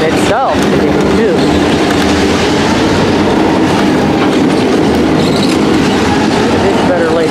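A heavy freight train pulled by four locomotives roars by up close, a continuous loud rumble with clattering wheels and occasional metallic squeals.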